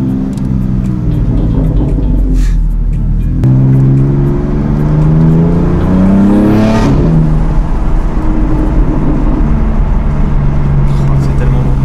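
Loud revving of a BMW M4 Competition fitted with a titanium M Performance exhaust: a deep idle burble rises through rising harmonic sweeps to a sharp peak, then drops back to a steady rumble, heard close and continuous.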